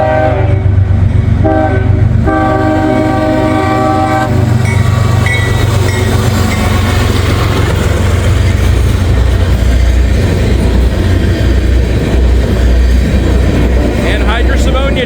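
CSX or Norfolk Southern freight train passing at night, opening with long loud blasts of the horn, then the heavy rumble and rolling clatter of railcars continuing close by and steady.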